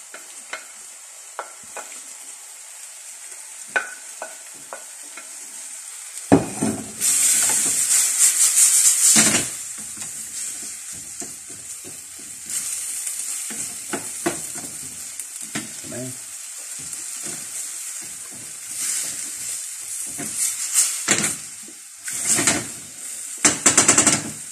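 Snow peas and capsicum are stir-fried in a hot pan, with bursts of loud sizzling and frequent scraping and clattering stirring strokes throughout, and no talking.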